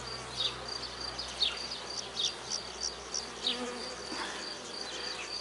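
A queenless honeybee swarm with unmated queens hums in a soft, continuous buzz, with individual bees zipping past up close and the drone rising and falling.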